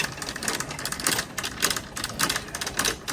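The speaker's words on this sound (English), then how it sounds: "So at Target with the clickety-clack cart." Shopping cart wheels in a Target store make a steady clickety-clack rattle, a fast run of small clicks rolling over the floor at moderate loudness with store ambience behind.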